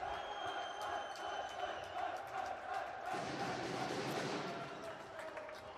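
Crowd at a men's first-division basketball game in Iceland, Vestri against Þór Akureyri, celebrating a Vestri win. Arena murmur swells into loud cheering and roaring about halfway through, then holds steady.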